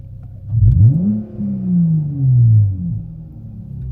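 A car engine revs in launch control as the gas pedal is pressed with an Injen X-Pedal Pro throttle controller fitted, giving loud, close revs that rise and fall in two swells, with no voices.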